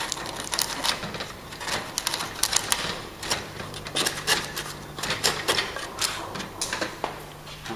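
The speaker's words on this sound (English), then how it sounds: "use our chisel just to clean that edge out" Steel chisel paring wood to clean out a housing joint in a door lining, giving a run of short, crisp scraping and clicking cuts in quick irregular succession at close range, with no talking.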